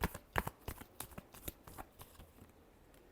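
Tarot cards being shuffled by hand, a quick run of crisp riffling flicks and taps, close and fairly quiet, fading slightly toward the end.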